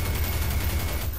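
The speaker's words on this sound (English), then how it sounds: "they keep on shooting me" Enemy gunfire in Garry's Mod rattles nonstop in dense, rapid overlapping bursts, loud and close, with no pauses and no speech.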